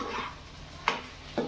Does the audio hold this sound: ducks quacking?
no